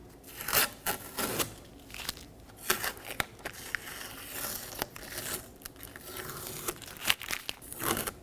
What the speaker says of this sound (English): We're going to remove our tape from our new assembly.